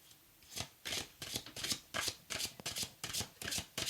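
Cards from an oracle deck are shuffled and handled, giving a rapid, rhythmic series of papery riffles and slaps close by, with no talking over it.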